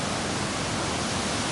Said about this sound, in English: A little waterfall.